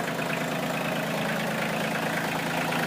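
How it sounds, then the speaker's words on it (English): A 2019 Kioti CK2610 HST compact tractor's 3-cylinder diesel engine idles steadily up close, a constant low rumble with even mechanical chatter and no talk over it. "I believe this tractor has got the 3-cylinder diesel"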